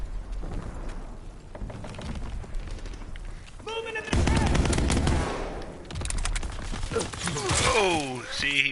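Rapid bursts of machine-gun and rifle fire in a WWII combat video game crackle close and loud, with explosions and shouting voices mixed in among the shots.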